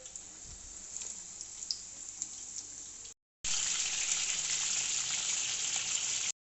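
A second batch of keema aloo tikki frying in hot oil, a continuous bright hiss that cuts out briefly, then returns louder and denser.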